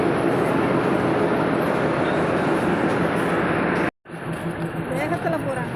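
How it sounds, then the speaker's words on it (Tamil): A passenger train rumbles along near Virudhachalam junction, a loud continuous roar of wheels and carriage noise that cuts out abruptly for an instant before resuming, with people talking over it. "விருதாசலம் சந்திப்பு ட்ரெயின் ஓடிக்கிட்டே இருக்கு"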